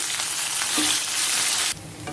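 Hot oil crackles and sizzles loudly and steadily as onion, curry leaves and spices fry for a sambar tempering, the hiss dropping abruptly near the end.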